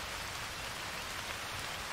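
Steady rain pours down in the Arma 3 military game, a dense, even hiss that stays loud and constant for the whole stretch with no voices over it.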